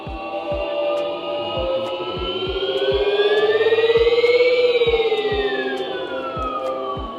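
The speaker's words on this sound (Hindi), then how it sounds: "यहाँ पे साउंड प्ले करोगे ना तो ये इक्लिप्स का साउंड है" Synthetic Eclipse-mode sound played by an Ola S1 electric scooter running OS 3, a loud sustained futuristic hum that glides slowly up and back down in pitch, with regular faint clicks beneath.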